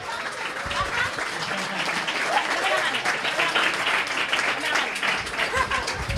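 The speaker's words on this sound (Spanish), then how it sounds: "Muy bien, un aplauso para ella." An audience at a conference talk in Valladolid applauds a volunteer. The loud, continuous clapping runs for several seconds, with voices talking over it.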